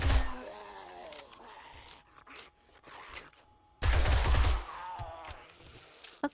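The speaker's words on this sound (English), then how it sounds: "Keep shooting." Gunfire aimed at zombies in the video game 7 Days to Die: two loud bursts of shots, one at the start and one midway, with groaning creature sounds and quieter scraping noises between them.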